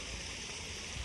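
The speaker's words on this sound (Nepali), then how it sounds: "यो पानी चाहिँ यो बन्द हुँदै फेरि आउँदै गर्दैछ" A park fountain in Beartree Park bonsai garden, Sejong, Korea, flows with a faint, steady burble of running water at a distance, without speech.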